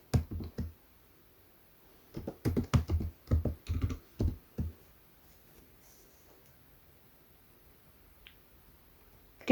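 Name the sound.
typing text on a computer keyboard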